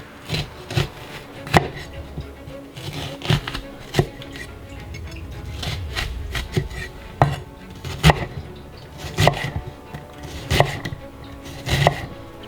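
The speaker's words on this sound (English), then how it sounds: "Just going to prepare these red onions like I prepare all the other onions." Red onions being chopped with a knife on a wooden cutting board in a home kitchen, a steady series of sharp, close knocks at irregular intervals with faint rustling in between.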